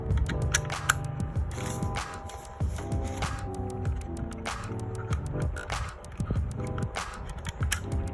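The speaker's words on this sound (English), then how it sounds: "Then we're gonna screw back the cover." A battery cover is screwed back onto a Rezivot Power Ranger, heard as close, small mechanical clicks, taps and scrapes from a screw and coin, with a faint hum underneath and no speech.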